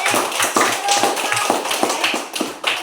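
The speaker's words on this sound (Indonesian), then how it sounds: "Tepuk tangan luar biasa sekali." A classroom of students clapping hands in a lesson, a dense run of quick, fairly close claps with uneven rhythm lasting throughout, with no voices over it.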